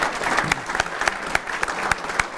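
Applause from a business lecture audience for the series sponsors: dense, steady clapping from a crowd with a few sharper claps standing out, filling the room for a couple of seconds.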